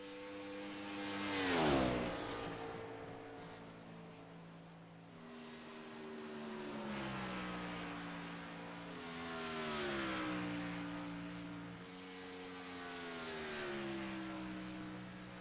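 Race cars lapping a track during qualifying, one car roaring close by with a sharp pitch drop around two seconds in, then further engines rising and falling in pitch as they circle at a distance.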